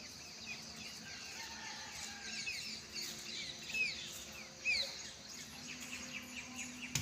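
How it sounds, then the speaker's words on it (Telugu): Faint birds chirp and call intermittently in the distance over a soft outdoor hiss, with a few sharper calls standing out, among them roosters crowing, in the morning. "పక్షులకి అరుపులు, కోడి కూతలు ఎంత బాగుంటాయో కదా"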